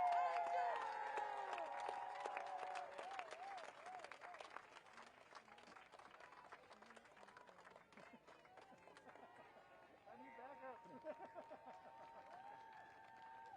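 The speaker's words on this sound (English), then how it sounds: "Keep that applause going." Crowd applause and clapping at an outdoor Native American rally at the White House fill the space, loud at first and easing slightly, with a singing voice or talk running over it throughout.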